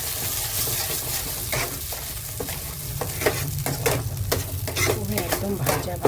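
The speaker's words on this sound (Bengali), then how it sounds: "একদম ভাজা ভাজা করে ফেলতে হবে এটাকে।" Pea filling for kochuri stir-fried in a pan, a constant close sizzle punctuated by repeated scraping and stirring strokes that grow busier and more rhythmic toward the end.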